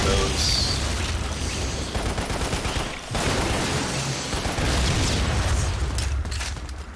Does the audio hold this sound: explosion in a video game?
yes